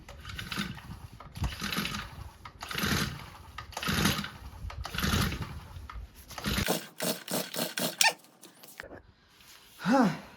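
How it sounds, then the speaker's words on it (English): About five rhythmic rasping pulls on a brush cutter's recoil starter, each a short, close whirr as the engine tries to catch, followed by a burst of rapid clicking and a quieter tail. "Let's try to start it now. The on switch, and here is the starter."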